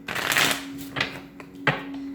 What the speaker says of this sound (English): One last shuffle for Aquarius, October 17th to the 18th.